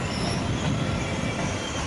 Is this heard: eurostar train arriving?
yes